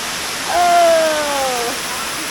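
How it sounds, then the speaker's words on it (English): Los Chorros de Calera waterfall in El Salvador, a steady broadband rush of falling water heard up close, with a brief whistling tone over it midway. "we made our way to one of the highlights, which is the idyllic Los Chorros de Calera waterfall"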